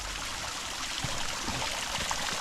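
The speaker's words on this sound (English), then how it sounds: "flows down that creek and continues on its way down through the reed beds" A creek flows through reed beds in Dale Hodges Park, Calgary, giving a constant close babbling rush of water with a few small splashes and no talking.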